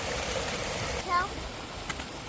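A fast river runs steadily with a broad rushing wash, and a brief voice-like tone rises partway through.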